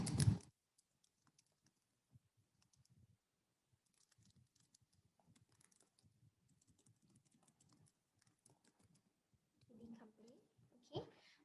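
Computer keyboard keys click softly in sparse, irregular bursts, quiet and close, with a few louder sounds at the start and end.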